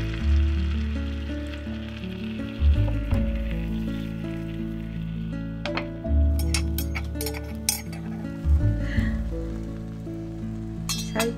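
Egg mixture poured into a Neoflam rolled omelette pan sizzles steadily at close range, with light metallic clinks of utensils against the pan.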